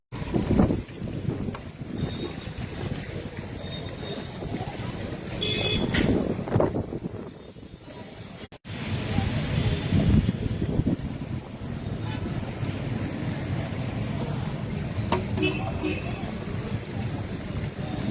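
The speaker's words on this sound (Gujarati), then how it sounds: "વંટોળિયો એવો ચાલુ, પવન એવો ચાલુ." Strong gusting wind and whirlwind roar outdoors in Vadia, a steady broadband rush buffeting the microphone, with a brief dropout midway and then continued heavy blowing.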